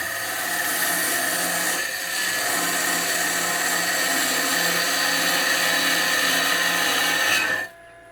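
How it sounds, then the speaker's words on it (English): A Bauer 14x20 EVS variable-speed wood lathe turns a maple blank, giving a steady, loud whirring drone with a scraping tool cut that holds for about seven seconds before spinning down quickly at the end. "This lathe has plenty of power."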